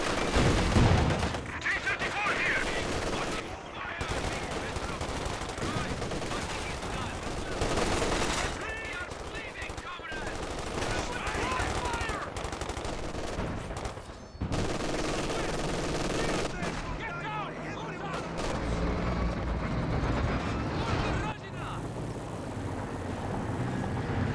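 Rifles and machine guns trade fire in a Company of Heroes 2 battle, with dense repeated bursts and booms rolling on and off throughout and a commentator talking over the gunfire.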